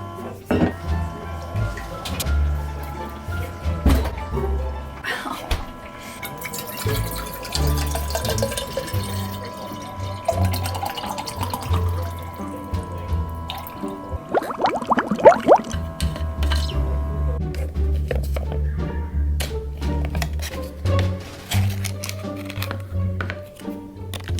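Cold water runs from a kitchen tap into a bottle in short bursts, the clearest and loudest stretch coming midway, amid clattering handling sounds and a person talking nearby.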